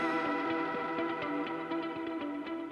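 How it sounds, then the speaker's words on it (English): A big room synth patch playing in Cubase, a bright, distorted stack of sustained chords with a steady pulsing rhythm, loud and up front with echo and chorus effects and no talking over it. "I've never tweaked a big room synth before, but I okay, it sounds like this."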